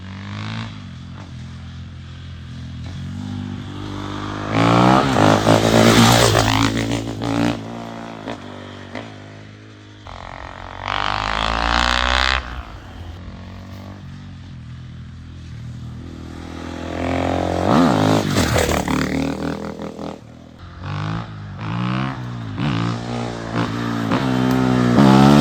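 A motorcycle fitted with an FMF-style exhaust and no dB killer makes repeated flybys on a scenic road: loud engine roars swell and fade as it passes, with quieter stretches in between.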